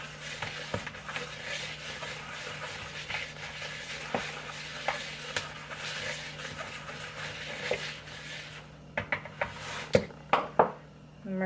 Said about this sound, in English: we're just going to use a whisk, mix all the dry ingredients together real quick